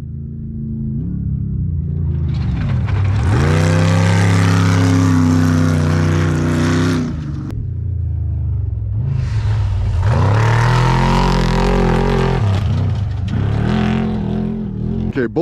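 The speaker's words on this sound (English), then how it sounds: "I can hear the first car. My guess is it's the Ultra 4 still" An Ultra 4 off-road race car roars up a desert valley during a desert off-road race, its engine climbing loud and close, easing off near seven seconds, then surging again in a second strong pass.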